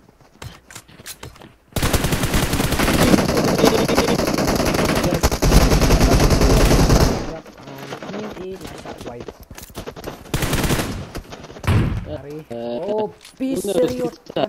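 Gunfire in the mobile battle royale game PUBG Mobile during a tournament stream, a loud sustained burst of rapid automatic shots for several seconds, followed by excited talk over quieter game sounds.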